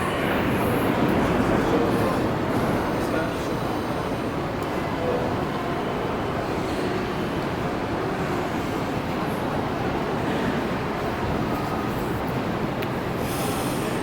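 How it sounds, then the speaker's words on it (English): Steady, loud ambience in a Bucharest metro station, with the broad rumble of trains and rail noise filling the space, brief higher squeals, and people talking faintly in the background. "What do you think of this for a metro station?"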